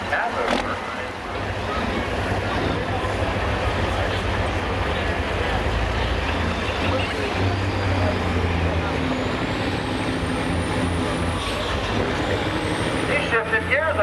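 Diesel truck straining at a truck pull, a loud sustained engine roar with heavy low rumble that holds steady for the whole stretch, with crowd noise and a whistle-like rising tone near the end.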